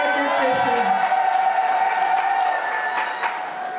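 A crowd at an RDPC political rally claps and cheers in a dense, loud, continuous wash of applause with whoops, holding steady for a few seconds before easing slightly.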